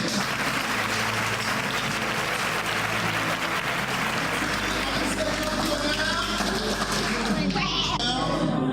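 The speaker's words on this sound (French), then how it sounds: "Je vous demande de l'applaudir s'il vous plaît." Audience applauding an award laureate at an academic ceremony: dense, steady clapping that carries on for about nine seconds, with a sustained low hum underneath.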